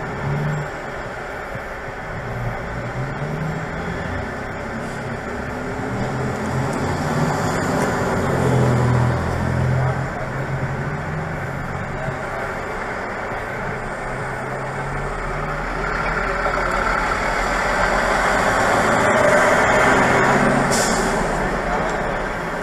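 Heavy trucks idle and roll past along a road, a loud continuous engine rumble that swells as a vehicle goes by, with a hiss like an air brake near the end and voices talking over the traffic.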